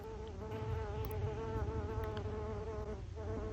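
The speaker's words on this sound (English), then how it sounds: "the sound of just a lone yellow jacket buzzing around trying to find food" A lone yellow jacket buzzing around in search of food, a steady close-up droning hum with a wavering pitch that persists throughout.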